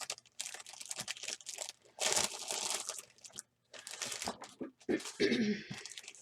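A crinkly plastic bag rustles and crackles in bursts as paper scraps are pulled out of it, close and fairly quiet, with brief pauses between handfuls.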